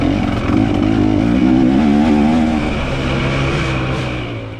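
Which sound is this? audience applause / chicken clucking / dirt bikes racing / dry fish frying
dirt bikes racing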